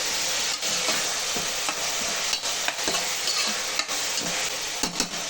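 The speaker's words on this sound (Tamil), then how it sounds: "நல்லா வதக்கிடலாம்." Onions sizzle steadily in a hot pan with rock salt for Tamil-style goat head gravy, a dense close frying hiss broken by occasional soft scrapes of the spatula, with no voices.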